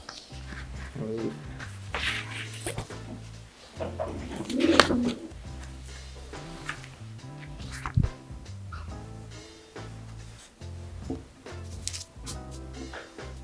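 Pigeons coo repeatedly in low, throaty murmurs close by, with occasional rustling and someone speaking over them.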